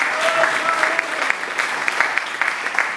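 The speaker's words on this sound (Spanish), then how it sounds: "un aplauso grande para la gente de Conciencia Solidaria" A crowd applauds steadily, a dense wash of clapping with sharper individual claps standing out, continuous and fairly loud.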